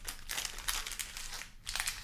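Sealed Magic: The Gathering Double Masters 2022 booster packs are shuffled by hand, their foil wrappers giving close, bursty crinkling and rustling in uneven waves with a short pause, and no speech.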